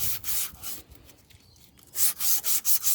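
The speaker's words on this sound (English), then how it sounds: "I'm going to polish out the rust and the nicks out of the stub axle" Rust and nicks are being polished off the tip of an Isuzu NPR stub axle by hand. Close, rough rubbing strokes come in bursts, pause briefly, then return as several quick, regular passes.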